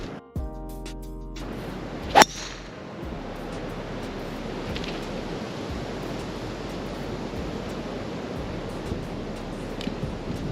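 Steady gusting wind blowing across an open golf course, a broad continuous roar buffeting the microphone throughout, with one brief sharp knock early on and no talking.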